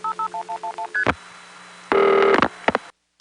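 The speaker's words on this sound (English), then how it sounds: "Let's listen to that call again, starting with the last digit dialed." Telephone call routed through an NX1 crossbar exchange: a quick run of touch-tone dialing beeps, then a short tone, followed by a loud sustained multi-tone burst and a few brief clicks before silence.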